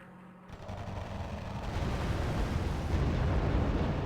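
Explosions from a bomber attack in the real-time strategy game R.U.S.E., a dense rumbling barrage that builds from a quieter start into continuous loud booms and crackling blasts.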